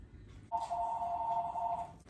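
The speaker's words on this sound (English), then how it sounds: "I cannot reach the phone right now." A phone rings with a steady electronic trill lasting about a second and a half, fairly close and clear over a quiet room.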